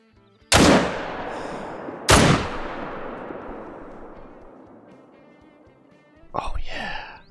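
Two loud hunting rifle shots in theHunter Call of the Wild, each ringing out with a long echoing decay across open terrain, followed by a brief burst of nearby voice or movement.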